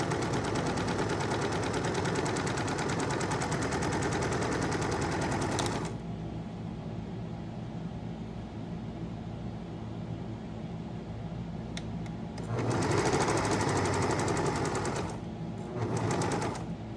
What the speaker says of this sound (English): I'm not sure if it's just my serger, but this whole table will shake like crazy. If I go too fast.